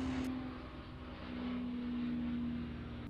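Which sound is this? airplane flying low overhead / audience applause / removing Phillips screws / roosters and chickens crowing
airplane flying low overhead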